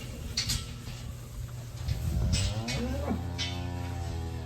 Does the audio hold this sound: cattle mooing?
yes